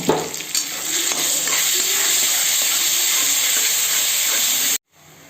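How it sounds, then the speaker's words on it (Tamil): A ground paste of onion, cinnamon, cloves and fennel is sautéed with brinjal in a hot pan, sizzling loudly and steadily with bright hissing and a few stirring scrapes until it cuts off abruptly. "இப்போ அதுலேயே நம்ம அரைச்சி வச்சுருந்தோம் இல்லையா, வெங்காயம், பட்டை, லவங்கம், சோம்பு எல்லாம், இப்போ அதை சேர்த்து வதக்கிடலாம்"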